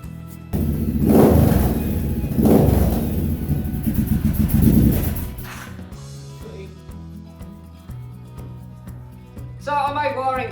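A bobber motorcycle with a custom-made exhaust revs in several loud, close surges, the engine rising and falling before settling to a lower idle, with a brief burst of higher-pitched sound at the end.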